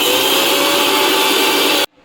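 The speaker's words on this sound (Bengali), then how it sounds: "এইভাবে আমি কর্নফ্লেক্সটাকে ভালো করে গুঁড়ো করে নিয়েছি" A mixer grinder jar pulverizes cornflakes into powder, a loud steady high-pitched motor whine that cuts off abruptly near the end.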